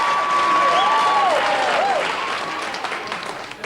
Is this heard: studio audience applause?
yes